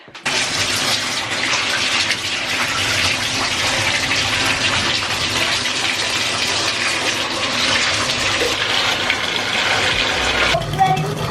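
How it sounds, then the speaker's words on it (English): Water runs steadily from a tap into a bathtub being filled for a bath, a dense continuous gush that stays loud and close for nearly the whole stretch before easing near the end. "I'm about to run the girls' bath water"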